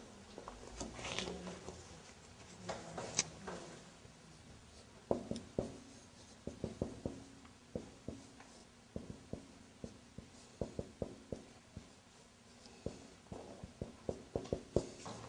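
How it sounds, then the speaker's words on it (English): Handwriting on a surface, pen or chalk strokes forming letters in short irregular bursts of scratchy taps, fairly close and moderately loud, with no talk. "Maybe I should write it."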